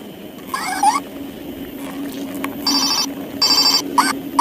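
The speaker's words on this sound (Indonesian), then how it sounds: "ada telepon Hello Kitty" A Hello Kitty toy phone gives several short electronic ringing bursts in an uneven pattern, with a steady hum underneath.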